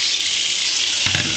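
Tap water runs steadily from a kitchen faucet as broccoli is rinsed of oil over a sink, a constant close hiss with a brief heavier splash near the end.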